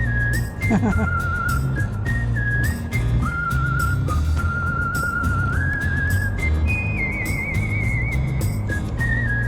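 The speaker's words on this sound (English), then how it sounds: "Hey, who's whistling?" A person whistles a wandering tune in steady held notes while people talk underneath and a low cart rumble runs throughout, on a cart ride in The Villages, Florida.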